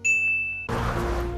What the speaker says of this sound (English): The great ceremonial glass doorbell.